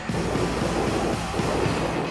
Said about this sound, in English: We have encountered a road train.